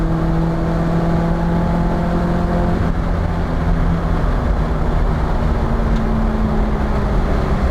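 Nissan S13 240SX drift car engine at full throttle, a steady loud droning roar with sustained tones that shift pitch partway through, continuous and close with no talk.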